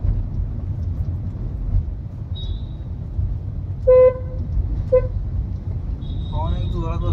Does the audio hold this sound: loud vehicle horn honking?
yes